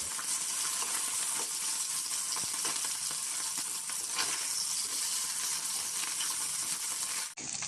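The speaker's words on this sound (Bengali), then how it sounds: "এক পিঠ ভালোভাবে ভাজা হয়ে গেলে মাছগুলো উল্টে দেব।" Small mourala fish fry in a pan of oil, giving a loud, steady, close sizzle with occasional faint crackles. The sizzle runs unbroken and stops abruptly near the end.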